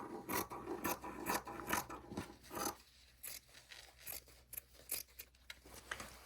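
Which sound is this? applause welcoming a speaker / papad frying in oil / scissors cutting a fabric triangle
scissors cutting a fabric triangle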